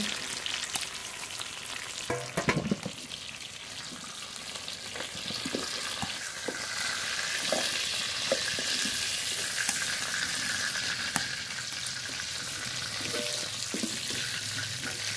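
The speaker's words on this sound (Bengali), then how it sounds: "ফোড়ন করে নেব, ফোড়নে গোটা জিরে" Whole cumin seeds tempered in hot white cooking oil give a steady close sizzle and crackle. Light stirring scrapes sound over the frying, with a brief clatter early on.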